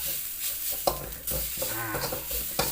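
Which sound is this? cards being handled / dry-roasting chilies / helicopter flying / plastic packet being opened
dry-roasting chilies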